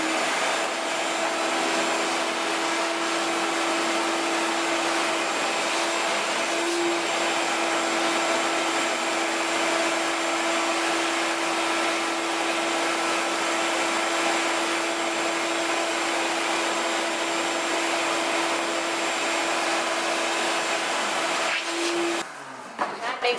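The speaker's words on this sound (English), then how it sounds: "But I'm going to be vacuuming up the chips," A vacuum cleaner sucks up CNC machining chips in a workshop, a loud steady drone with a constant whine holding for over twenty seconds before cutting off near the end.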